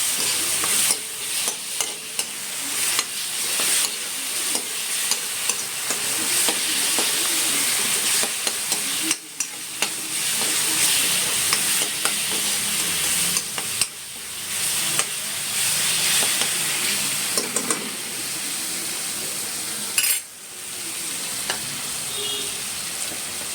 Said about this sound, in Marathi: आता त्यात आपण अद्रक लसूणची पेस्ट टाकणार आहोत. ती पण थोडी तेलामध्ये परतून घ्यायची.